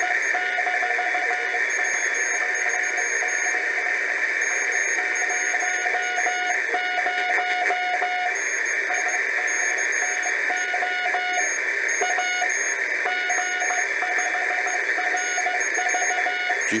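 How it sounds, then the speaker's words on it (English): Morse code CW signal at the bottom of the 40 m amateur band, picked up on a homebrew HRO-style receiver: a thin keyed tone pulsing on and off in steady patterns over continuous radio hiss. "it sounds like a kind of a homebrew signal or an old rig"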